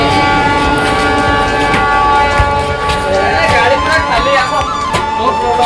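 A train pulls out of a station near Puri, giving loud continuous rumble and rolling wheel noise with a horn-like tonal sound rising over it; voices are heard faintly in the background.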